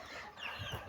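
A young chick gives a brief soft clucking peep, faint and close, lasting under a second with no talking.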